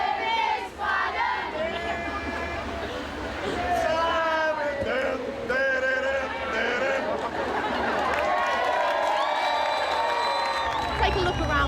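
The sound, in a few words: large crowd cheering at La Machine spider event in Liverpool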